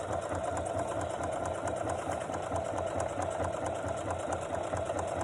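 A sewing machine runs slowly over the thick seams of a tote bag, where the pockets are, with a steady mechanical whir and rattle throughout. No voices.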